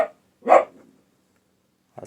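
A dog gives a single loud bark indoors nearby, followed by a brief fragment of another sound at the end, with silence between.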